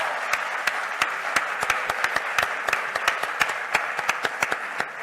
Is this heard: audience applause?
yes